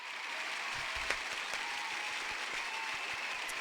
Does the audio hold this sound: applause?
yes